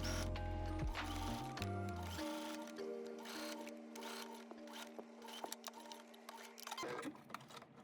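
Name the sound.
sewing machine stitching along garment curves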